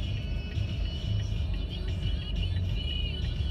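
A car on a commute to work rolls through traffic, its low engine rumble and road noise steady and close from inside the cabin, with no one speaking.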